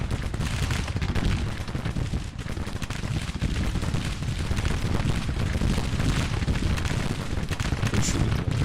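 Dense, continuous battlefield gunfire and heavy booms from Civil War artillery in the Grand Tactician strategy game, a loud, unbroken roar of overlapping shots and blasts with no talking.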